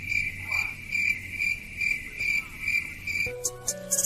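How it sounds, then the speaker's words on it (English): Repeating cricket chirps pulse steadily through a rap track's moment of silence, a bright, regular trill alone at first before a beat and synth notes cut in near the end. "Moment of silence, crickets."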